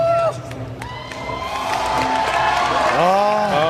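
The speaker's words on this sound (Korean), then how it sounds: "많이들의 환호도 이끌어낼 줄 알고요" A large crowd roars and cheers for a fighter at a ROAD FC mixed martial arts lightweight championship, loud and sustained with whoops and shouts swelling through the arena.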